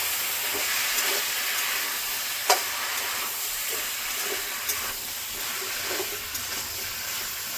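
Prawns and mixed vegetables with spices frying in a pan, giving a continuous loud hissing sizzle with occasional stirring knocks and scrapes, no voices.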